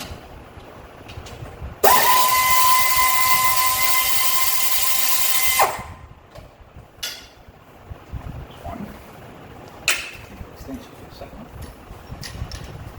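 A power tool, likely an impact or drill, runs in one loud sustained burst of about four seconds while removing two 13 mm starter bolts during an engine swap, followed by quieter workshop clatter and small tool clicks.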